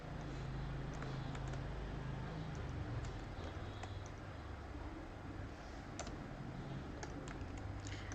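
Quiet, steady clicking of a computer keyboard as an IF formula is typed into Excel, with irregular light keystrokes over faint background hum.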